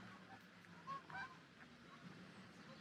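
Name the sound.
ducks or geese calling in a park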